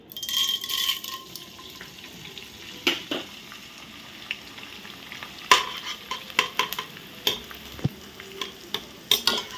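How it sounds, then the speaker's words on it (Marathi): Edible gum crackles and sizzles as it fries in hot ghee, soft bubbling with scattered sharp clinks and stirring knocks from a utensil against the pan, fairly quiet and close. "हा डिंक आता मी सगळा डिंक थोडा थोडा घालून या तुपामध्ये"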